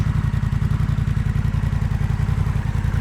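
A Honda Rebel 1100 motorcycle fitted with a Coffman's Shorty exhaust idles close by, giving a steady, loud, rapid low-pitched pulsing throb that stays even throughout.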